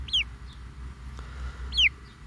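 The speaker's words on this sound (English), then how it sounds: "So cute. My baby chickens." Two short, high chirping calls from baby chickens held on a person's arm during an outdoor walk, spaced well apart over a low steady background rumble.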